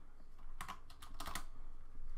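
A short burst of keystrokes on a computer keyboard enters an offset value while setting up a BLTouch on an Anycubic i3 Mega 3D printer, a few quick, close clicks over a faint room hum.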